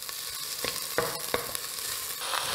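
Garlic, ginger and chunks of potimarron squash are stirred in a hot pot, giving a soft continuous sizzle broken by a few sharp spoon scrapes and clacks, close and without any talking.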